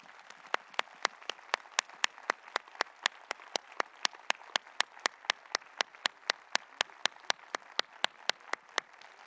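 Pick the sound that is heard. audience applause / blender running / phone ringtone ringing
audience applause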